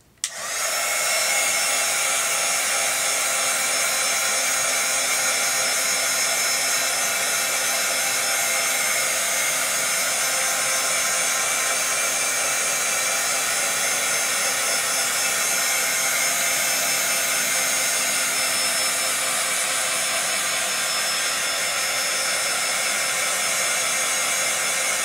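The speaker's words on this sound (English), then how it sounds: "I'm going to hit it with the heat gun and see what happens." A heat gun blows steadily and loudly on a mixed-media envelope, a constant airy whir that switches on abruptly and runs unbroken for about twenty-five seconds, with no voices.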